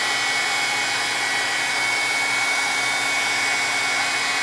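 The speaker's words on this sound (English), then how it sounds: "Here is fast way to dry your stains" Hair dryer blowing to dry stains on an art surface, a steady loud whirring hiss with a constant airflow roar running unbroken from start to end.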